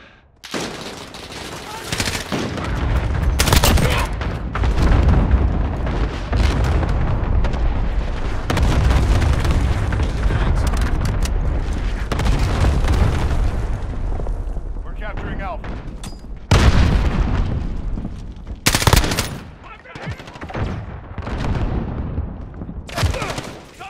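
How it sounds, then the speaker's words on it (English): Call of Duty Modern Warfare multiplayer combat on Xbox One X, with dense, loud, sustained machine-gun fire and booming cluster-strike explosions rolling almost without pause, then sharp isolated blasts near the end. "They're shooting at me. Enemy cluster strike incoming."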